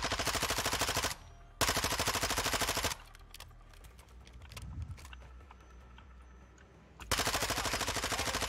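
Gunfire in Warzone: loud, close automatic bursts rattle at the start, again around two seconds in, and at the end, with quieter scattered shots and clicks in the gaps between them.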